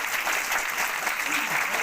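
Audience applause at a talk or stage gathering, a steady wash of clapping hands filling the whole short stretch at even loudness with no gaps.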